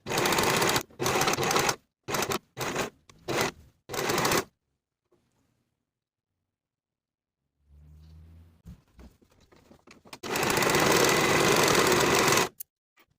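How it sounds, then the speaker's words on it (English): A sewing machine sews finishing stitches along culottes seams in several short bursts, falls silent with faint handling noises, then runs again in one longer close burst. "I'm going to sew finishing stitches"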